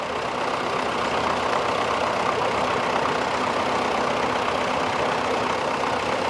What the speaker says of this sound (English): Great to see these old tractors going.